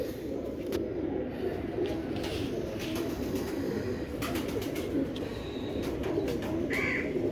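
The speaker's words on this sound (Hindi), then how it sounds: "ये देखें दोस्तों, चौधरी साहब वाले कबूतर है माशाल्लाह।" Teddy pigeons of an old breed coo inside a cage, a dense, continuous murmur of soft overlapping coos close by, with occasional chirps and faint rustling, steady throughout.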